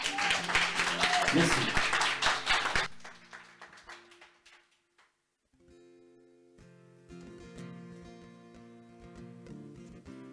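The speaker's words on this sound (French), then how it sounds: "on peut les applaudir très très fort" Audience applauding a two-man band at a house concert, a few seconds of lively clapping that stops abruptly, followed by a brief spoken thanks and then music beginning.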